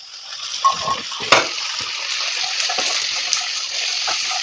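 Boiled potatoes and soaked, boiled white chickpeas tumbling into a simmering curry, giving a wet splash and a steady bubbling, sizzling hiss with a couple of sharper clatters, close by with no talk.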